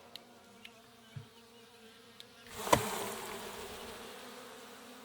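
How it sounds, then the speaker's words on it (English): Honey bees buzz softly around a Langstroth hive frame, a faint continuous drone with a few brief clicks. A sharp knock sounds midway and the buzzing swells a little afterward. "I'll shake the bees off and we'll close the flap"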